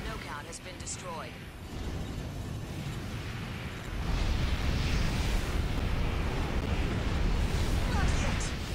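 An enemy NEXT mech is destroyed in a video game, and a dense, roaring blast swells and sustains over a loud rushing wash with a voice speaking in the mix.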